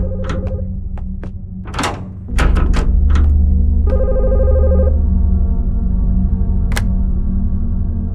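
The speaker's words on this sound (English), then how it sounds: "We're getting a phone call already." A telephone rings in The Skin Stapler video game, its electronic ring tones sounding in bursts over a steady low hum, with clicks and thunks around them.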